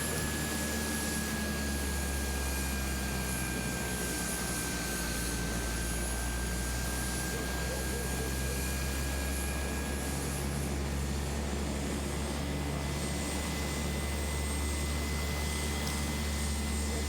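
A small airplane taxis toward the downhill runway at Lukla, its engine holding a steady, close droning roar with a thin constant whine and no voices over it.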